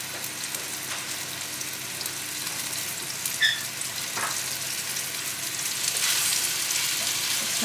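Seasoned venison frying in a hot pan at high heat, with a continuous close sizzle that swells louder toward the end and is broken by a few light clinks and scrapes, with no talking.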